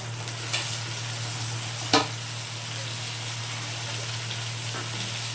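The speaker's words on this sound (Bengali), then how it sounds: "দিয়ে ভালো করে ভেজে নিচ্ছি" Green chillies and tomatoes fry in a pan with a steady, even sizzle and two brief scraping stirs, with no one talking.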